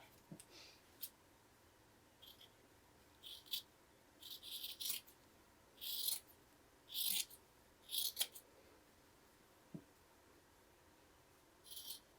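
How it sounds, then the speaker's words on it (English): Old cotton shirt fabric torn by hand in several short, rough ripping bursts, close and crisp, with quiet pauses between them and a few soft handling clicks. "Let me rip this one."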